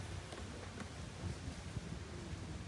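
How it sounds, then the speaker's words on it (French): A steady, faint wash of outdoor wind murmurs on a gloomy day at a funeral, a soft continuous rushing with no distinct events. "on entend seulement les murmures du vent"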